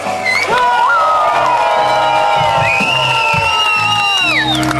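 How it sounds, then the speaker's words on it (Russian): Loud crowd cheering, whooping and shouting at an embroidered-shirt contest during a 2014 bikers' rally in Uman, with bursts of yells rising and falling over continuous clapping and noise. "Э, человеку, который в моточубе участвовал, аплодисменты."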